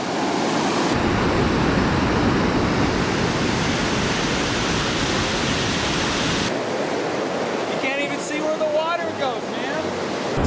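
Water roars loudly and steadily as it rushes toward the point where it drops underground into a stream in Oregon, a dense broadband rush close by, and a voice talks over it near the end.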